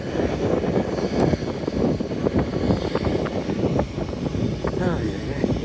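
A small airplane flies with a young pilot at the controls, its engine drone running steadily through the clip while voices talk over it.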